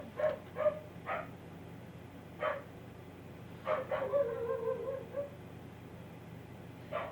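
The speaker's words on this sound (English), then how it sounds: "That's our dog." A dog barks several times in short, separate bursts, with a longer whiny yelp in the middle, heard at a slight distance over quiet background hum.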